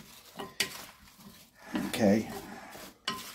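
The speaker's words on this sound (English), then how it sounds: "So give this a little bit of a mix." Apple pie filling with orange juice is mixed in a bowl, with intermittent close clinks and scrapes of a utensil against the bowl and a brief spoken word among them.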